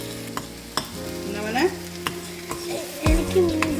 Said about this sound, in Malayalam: നമുക്കിപ്പോൾ പെട്ടെന്ന് ഇളക്കി കൊടുക്കാം.